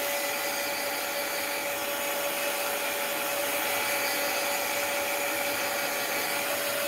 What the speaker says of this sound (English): So I'm going to concentrate on the white with my heat gun.